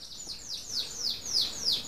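Several birds chirp in a Costa Rica garden near decorative banana plants and flowers that attract them, bright descending tweets repeating every few tenths of a second, moderately close, over quiet background with no talk.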